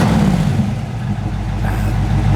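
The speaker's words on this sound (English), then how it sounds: "Let's see what this dual exhaust sounds like." A 1967 Ford Mustang with a rebuilt 351 engine idles and revs through its dual exhaust, a loud, close, deep rumble that swells slightly without pausing.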